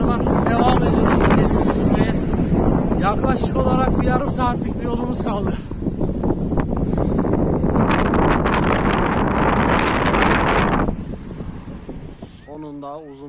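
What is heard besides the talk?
strong wind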